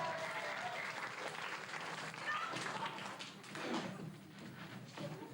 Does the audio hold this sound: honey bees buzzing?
no